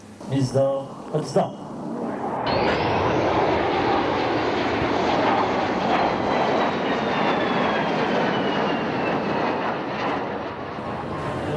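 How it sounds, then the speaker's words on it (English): Three F-15 fighter jets flying over an outdoor military ground ceremony, their engines building into a loud, sustained roar that fills the air for several seconds after brief voices at the start. "as we finished the ground ceremony, the 3 F-15s flew over."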